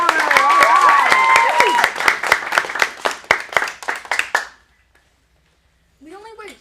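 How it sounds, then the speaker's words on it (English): Small audience at a teen acting studio showcase in Phoenix applauding the next performer, a few seconds of brisk clapping that thins into scattered individual claps and stops, followed by a brief voice. "let's get a big round of applause for our next performer"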